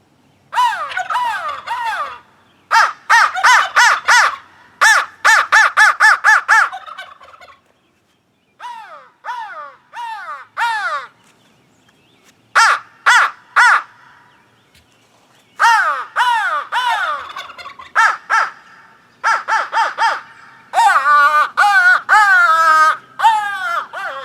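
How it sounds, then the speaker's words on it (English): A wooden crow call by Cash's Custom Calls blown in repeated bursts of harsh caws, loud and close, with rapid rhythmic series and short pauses, becoming more rattling and rolling toward the end. "Really good sounding crow call"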